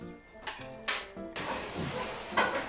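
Dishes, pots and cutlery are cleared after a simple home lunch, a string of scattered clinks, clatters and scrapes close by with short pauses between them and no talk.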